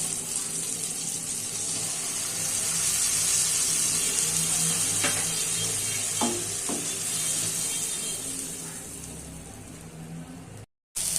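Masala spices fry in a pan with softened tomatoes, giving a steady, close sizzle with a few stirring knocks and scrapes partway through and a brief dropout near the end.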